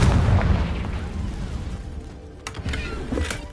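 A Confringo spell blast in Hogwarts Legacy, a loud, dense, rumbling boom with crackling debris and a few sharp pops trailing off over several seconds.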